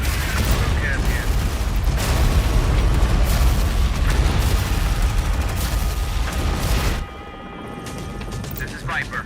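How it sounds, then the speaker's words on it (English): Artillery explosions pound a position in Tom Clancy's EndWar, a dense, loud rumble of booms and blasts that drops off abruptly toward the end, with radio-style voices talking over it. "Artillery fire on our position."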